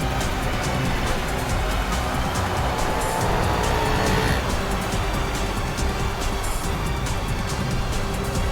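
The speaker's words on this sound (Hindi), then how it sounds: "ये गाड़ी भी शिल्पा का पीछा कर रही है।" A car drives steadily in a pursuit through traffic in a Hindi crime drama, its engine and road noise forming a loud, continuous wash with brief squeals and passing swells, no voices over it.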